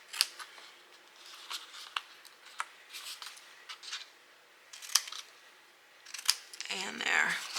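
Scissors snipping paper to shape a small reindeer treat box: a handful of crisp, separate cutting snips spaced across the moment, fairly close and quiet, ending in a short rustle of paper being handled.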